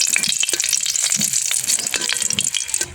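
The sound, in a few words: chilies, garlic and onion frying in oil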